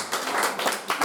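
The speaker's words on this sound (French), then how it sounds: "Applaudissons le Seigneur." A church congregation claps together in quick, uneven bursts during a French-language worship song, close and lively, with voices mixed in beneath the applause.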